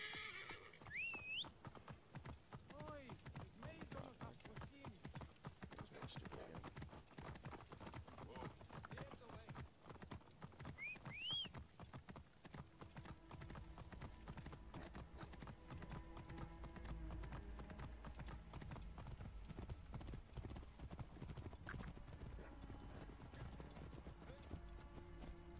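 Horse hooves clip-clopping in the video game Assassin's Creed Origins, a steady close trot with a whinny, heard under a spoken voice and background game sound.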